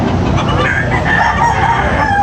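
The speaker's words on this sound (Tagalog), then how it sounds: "Wapo manok." A rooster crows loudly and close by at a cockfighting rooster market, set against a dense bed of crowd noise and other fowl.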